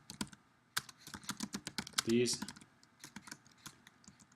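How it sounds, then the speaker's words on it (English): Fingers tap a computer keyboard in quick, irregular bursts of close clicks, with a brief voice sound partway through. "sorry for my typing skills there"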